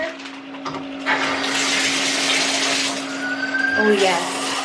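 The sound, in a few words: shower water running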